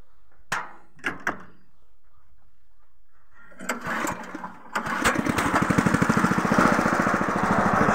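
A small motorized sprayer with seven nozzles starts up after a few clicks, then runs with a steady, loud, rapidly pulsing engine drone that fills the rest of the clip.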